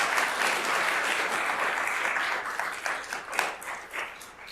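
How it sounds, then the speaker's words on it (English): Audience applause at an intellectual property alliance conference, a steady wash of many hands clapping that holds evenly and then thins into scattered claps near the end. "Can we give them a round of applause, please?"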